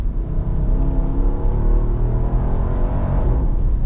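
A 2025 Nissan Patrol Warrior Y62 engine gives a deep, steady rumbling rev from inside the cabin, a continuous low drone with little change over a few seconds.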